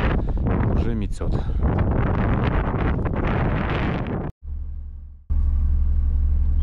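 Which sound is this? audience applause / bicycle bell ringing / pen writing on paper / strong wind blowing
strong wind blowing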